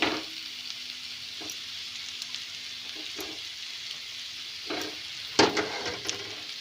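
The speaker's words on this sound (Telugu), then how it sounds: "నెక్స్ట్ మనం ఉడికించుకున్న ఎగ్స్ వేసుకుందాం." Boiled eggs fry and are stirred into a potato curry in a pan, with a steady soft sizzle, a few scraping stirs, and a louder clatter of utensil against pan near the end.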